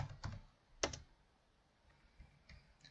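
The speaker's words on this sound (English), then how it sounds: "I will type Oswald" Someone types a short word on a computer keyboard: a few sharp, sparse key clicks with pauses between them, close and fairly quiet.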